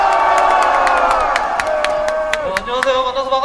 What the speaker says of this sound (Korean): 청년한테 박수 한번 주세요